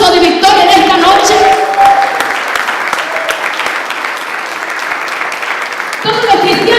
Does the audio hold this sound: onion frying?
no